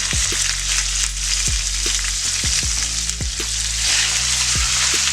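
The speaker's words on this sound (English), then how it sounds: "we're going to go over and sear off our meat now" Small pieces of meat for barbacoa sear in a hot skillet, giving a loud, steady sizzle close up, with a low hum and a scattering of sharp pops and spatters throughout.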